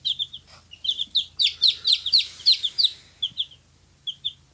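Young chicks kept in brooder boxes peep in a rapid run of high, clear cheeps that sound close and fairly loud, bunching together and then thinning out toward the end.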